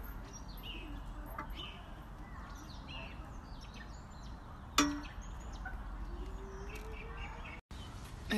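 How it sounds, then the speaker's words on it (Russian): Scattered bird chirps and tweets sound faintly in a backyard over a steady background hum, with one sharper call standing out midway. "У нас во дворе просто какой-то птичий заповедник."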